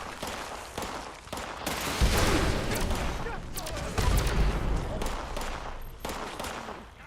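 Rapid bursts of gunfire in the Fallout 76 video game, loud and dense, rattling almost continuously through the clip with heavy low-end thumps; a voice can be heard faintly in the background.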